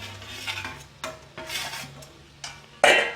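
Fried soya chunks stirred into onion masala in a pan: soft scraping and shuffling strokes in uneven bursts, ending with a sharper metallic clink of utensil on pan, close and alone.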